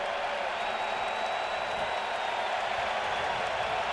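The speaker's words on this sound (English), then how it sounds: "Now this crowd getting loud." Crowd noise swelling at a Yankees vs. Blue Jays baseball game in the stadium, a steady broad roar of many voices held at a constant level throughout, with no single voice standing out.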